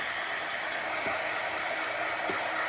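A hair dryer runs steadily and close up, drying white chalk paste pressed through a house stencil for DIY chalkboard art, a constant whooshing hiss that doesn't change for the whole stretch.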